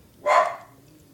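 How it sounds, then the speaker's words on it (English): A dog gives one sharp bark, a brief strong burst heard alone over faint outdoor ambience. "Maybe you hear a dog barking."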